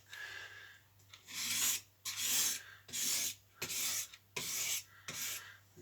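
A kitchen knife drawn across an oiled whetstone in repeated rasping strokes, six or seven rhythmic swipes with brief pauses between, close and fairly quiet, with no talking.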